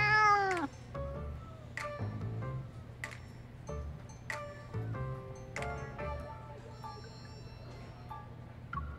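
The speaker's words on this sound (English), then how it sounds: "Such a fierce cat hardly suits the lovely name Darling" In the video game Love and Deepspace, a cat meows loudly up close at the start, followed by a series of shorter meows and chirps spaced a second or so apart over a soft ticking background.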